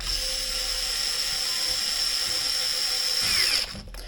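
A power tool driving two screws into an Arrma Outcast 4S V2 RC car, a close, steady high whine that runs for several seconds and then stops abruptly.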